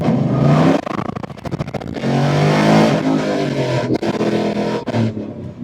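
A Buick Skylark restomod's LS3 V8 engine revs hard and loud, rising and falling in pitch with a deep, throaty roar across several bursts.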